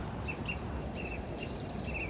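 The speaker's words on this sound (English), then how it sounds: "Don't you love that noise? I think it is a blackbird" A bird, reportedly a blackbird, sings in short, faint, high whistled phrases at a distance, set against a low, constant outdoor rumble.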